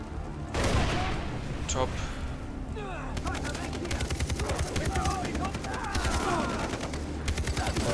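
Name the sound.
gunfire from weapons in the video game Far Cry 3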